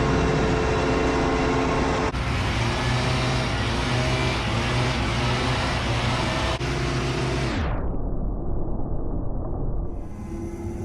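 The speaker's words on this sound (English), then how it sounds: "Always a little weird driving the combine with no head on it." A combine harvester with its header removed drives along, its engine a loud, steady broadband rumble close by for most of the stretch, then the sound drops off sharply and turns duller and quieter near the end.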